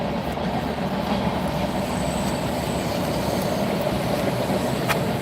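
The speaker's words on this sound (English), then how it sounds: "Forgot there were train tracks here." A train rolls past on nearby tracks in a continuous, loud, broadband rumble with faint wheel squeal, steady throughout with no voices.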